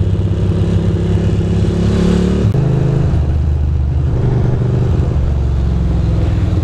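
Dense traffic on the Brooklyn Queens Expressway, a continuous heavy rumble of car and engine noise with a passing engine swell and clatter, steady and close throughout with no talking.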